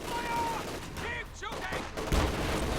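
Rifle gunfire in Company of Heroes 2: a few sharp cracks and a heavier burst of shots amid battle noise, playing under a caster's talk.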